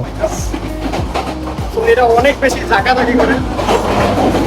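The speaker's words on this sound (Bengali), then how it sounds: "ট্রেনের ভিতরে কিন্তু অনেক শব্দ" Rattling and clattering of a moving train heard from inside the carriage on a Dhaka to Cox's Bazar journey, with rhythmic wheel clacks and people talking over the steady rumble.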